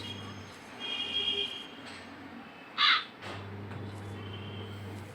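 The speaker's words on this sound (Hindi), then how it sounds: "एक तो भूतिया हवेली के पास पता नहीं कौवे क्यों रहता है" Crows caw near a haunted mansion in the horror video game True Fear, a single loud caw standing out over a low steady ambient hum, with faint bird calls earlier.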